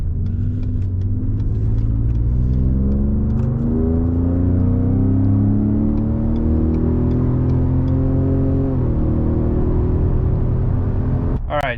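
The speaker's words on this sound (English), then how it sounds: "The truck's still warming up." A 2018 Ford Raptor pickup engine runs while warming up, a steady close rumble whose pitch climbs and sweeps as it gathers revs, ending with a brief clatter.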